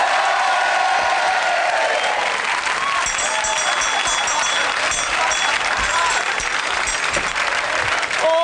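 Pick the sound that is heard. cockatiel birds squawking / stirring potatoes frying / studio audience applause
studio audience applause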